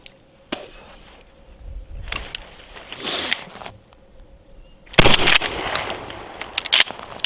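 A shotgun is handled during a full speed reload at a range, with sharp metallic clacks of shells and action, a burst of rapid loud reports and rattling near the end, all close by.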